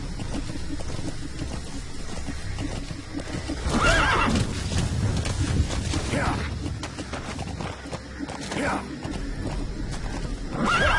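A horse in the video game Metal Gear Solid 5 whinnies loudly twice amid clip-clopping hooves, with people talking over the game sounds.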